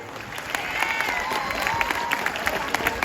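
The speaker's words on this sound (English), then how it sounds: "I think we have to give a very big round of applause for the program today." Students applaud steadily at a school farewell for Standard 10th and 12th, a dense and loud wash of clapping with faint cheering mixed in, sustained throughout the short clip.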